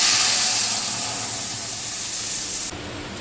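A loud, dense sizzle of spice paste frying in mustard oil in a wok, close and steady, easing slightly before cutting down abruptly near the end.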